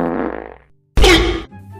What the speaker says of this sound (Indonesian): kamu kentut.